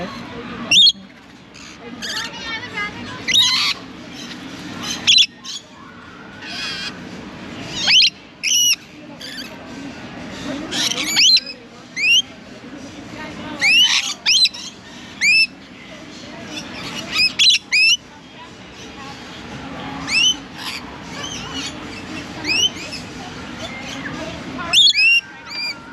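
Lorikeet parrots at a county fair encounter aviary screech and squawk in repeated sharp bursts over a murmuring crowd, the shrill calls loud and close, with voices chattering underneath throughout.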